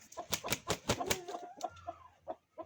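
An Indian breed rooster kept as breeding stock makes a quick series of quiet clucks and short calls, fairly faint, followed by a few scattered softer sounds.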